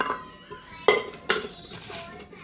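Boiled chicken poured out of a pot in a home kitchen gives two sharp metallic clanks against a faint background, with a soft clatter of utensils.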